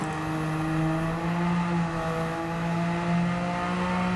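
A fully upgraded Honda N-One RS in Gran Turismo 7 drones with a steady, continuous engine tone at sustained revs, its harmonics holding level and loud with no voices over it.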